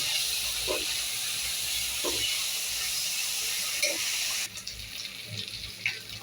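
Ground green chili, ginger and garlic paste frying in hot oil for a home chicken curry, a steady loud sizzling hiss with a few soft clinks of stirring, dropping to a gentler crackle midway.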